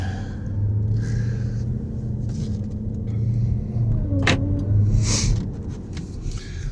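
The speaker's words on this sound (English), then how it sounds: "We'll take it out for a little drive." A repairable salvage 2020 Jeep Grand Cherokee Trackhawk drives along with a steady low engine rumble and road hum, heard from inside the car, with a couple of brief higher clicks and swishes over it.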